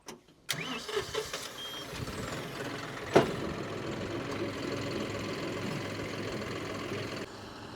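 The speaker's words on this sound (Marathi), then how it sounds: "आता ट्रॅक्टर चालतो आपण कशा पद्धतीने" A tractor engine runs steadily and loudly in a field, starting abruptly after a brief quiet moment, with a sharp knock partway through, then cutting off near the end.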